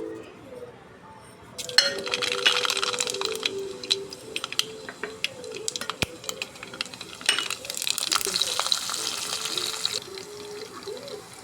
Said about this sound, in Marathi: आता डाळीला फोडणी देऊ